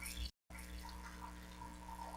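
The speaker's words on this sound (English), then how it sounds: "I want to drain some of the pasta cooking water into a measuring cup" Hot pasta cooking water pouring into a measuring cup, a faint steady trickling stream broken by one brief dropout, with no talking.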